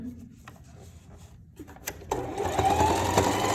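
A sewing machine runs a straight stitch while a one-piece garment is sewn, starting with a few soft clicks and then settling into a steady, close, fairly loud whirring hum that continues to the end.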